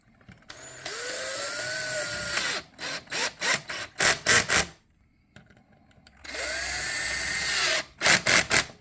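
A power drill drives screws into a Stratocaster guitar neck, running in two long sustained whirs, each followed by a string of short stuttering bursts as the screw is seated, close and loud with no speech.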